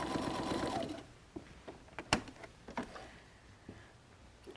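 A sewing machine back stitching along a chalk line on a messenger bag gives a loud burst of rapid needle chatter that stops, followed by scattered quiet clicks and taps as the fabric is handled.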